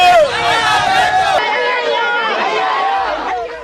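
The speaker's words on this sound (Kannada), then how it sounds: "ಧಿಕ್ಕಾರ ಕೂಗೋದೇನು, ಜೈಕಾರ ಹಾಕೋದೇನು" Supporters of Congress MLAs out on the street shout slogans together, a loud, dense mass of overlapping voices chanting and calling out at close range.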